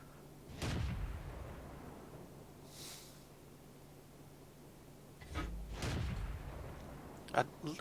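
Marder II Tier 3 tank destroyer gun in World of Tanks fires two heavy booming shots several seconds apart, each with a short rumbling tail, followed by a sharp clank, over a quiet background.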